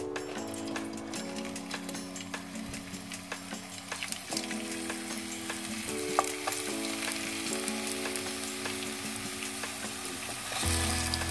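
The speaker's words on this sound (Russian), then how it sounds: "Итак, мы закончили жарить ровно половину той картошки, которая у нас была." Potatoes fry in oil with a soft, continuous sizzle and scattered crackles and pops over a low steady hum, fairly quiet and close, with no voices.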